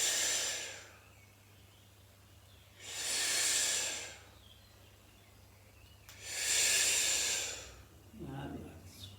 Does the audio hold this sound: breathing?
yes